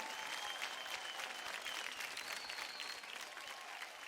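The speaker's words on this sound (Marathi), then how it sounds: "जोरदार टाळ्या होऊन जाऊ द्यात" A studio audience claps loudly and steadily throughout on a Marathi TV dance show, a dense, even applause with no pauses.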